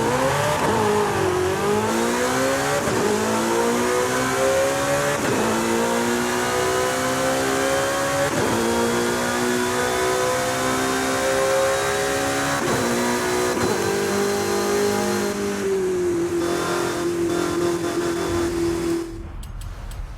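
A car in Forza Horizon 5 with a race transmission runs up through the gears, its engine note rising and dropping at each shift while a thin, steady high gear whine rides above it throughout, no voices.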